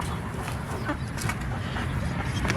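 Chickens in a backyard flock cluck and murmur in a steady, busy stream of close, overlapping calls, with some faint rustling beneath.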